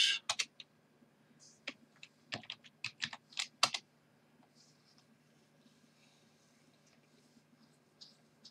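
Quick bursts of keystrokes on a computer keyboard as a Linux command is entered, close and crisp in the first few seconds, then only faint scattered taps over a low hum.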